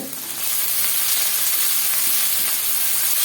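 Onion and tomato sautéing in a pan for a pepper mushroom masala gravy, a steady close sizzle and frying hiss that swells in just after the start and holds evenly, with no talking.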